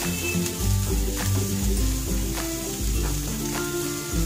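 Chopped carrots and other vegetables sauté in a pan for hot and sour soup, with a steady close sizzle and rhythmic tossing and scraping of the pan, no voices.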